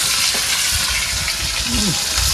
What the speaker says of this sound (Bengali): ও কি মাছ ভাজা বসেছ?